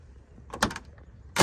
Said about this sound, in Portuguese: Fechamento de porta